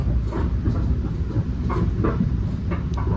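Steady low rumble of a train rolling past nearby in New York City, with occasional faint metallic clicks over the continuous roar.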